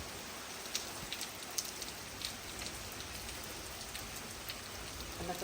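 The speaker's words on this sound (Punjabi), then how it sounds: "ਹਾਂ ਬਾਰਿਸ਼ ਬਹੁਤ ਤੇਜ਼ ਹੋ ਗਈ।" Heavy rain pours down in a steady hiss, with scattered louder drops pattering now and then. The sound is soft and continuous, with no voices.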